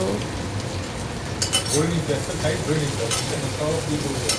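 Meat frying in a hot pan gives a steady loud sizzle, with a few scraping stirs and the clatter of potatoes being added, all close by and without speech.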